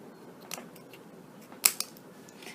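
Scissors cut an Ethernet cable in half, one crisp close snip followed quickly by a second smaller snap against a quiet background.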